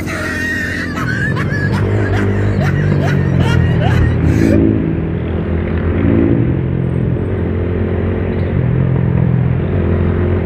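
Steady engine drone of a Motorstar Cafe 150 motorcycle on the move, loud and continuous, with brief voices or squeals early on over the rumble.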